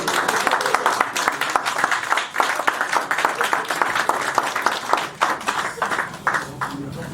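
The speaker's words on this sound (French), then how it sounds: "Je pense que notre frère mérite des applaudissements." An audience at a Sunday gathering applauds steadily for about seven seconds, dense continuous clapping with a few louder individual claps, with voices mixed in underneath.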